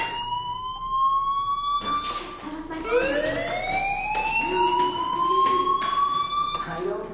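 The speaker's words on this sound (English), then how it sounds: "do you hear that fire alarm?" A fire alarm wails inside a PlayStation 4 video game, a loud rising and falling siren tone that sweeps upward and holds, repeating over a busy background with faint voices mixed in.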